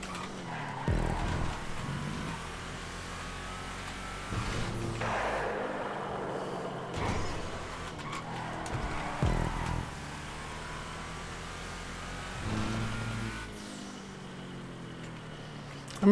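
Car engine roaring and tires skidding in the video game GTA 5 Online, a continuous rumbling drive with revving surges and screeching slides at moderate level throughout.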